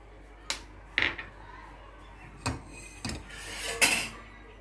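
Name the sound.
dry roasting mustard seeds, cumin and chili in a pan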